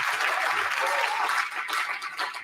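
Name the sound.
applause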